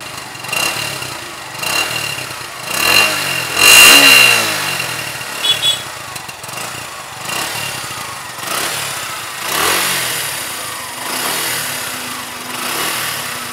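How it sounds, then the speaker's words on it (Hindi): A 2019 Suzuki Gixxer SF motorcycle engine idles with a rumbling exhaust, then revs up several times in loud bursts before settling back, close by. "चलिए इस बाइक का एग्जॉस्ट नोट"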